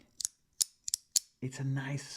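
A Lautie Shuffle Zr:Co slider fidget toy gives five crisp, close metallic clicks in an uneven rhythm, followed by a brief voice.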